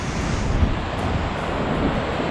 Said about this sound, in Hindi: वहाँ से ऊपर से भाई पानी गिर रहा है, जैसे वाटरफॉल में गिरता है